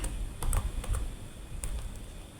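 Homemade slime made from three ingredients being squeezed and pressed, giving quick soft clicks and pops in small bursts, close and fairly quiet, with no talking.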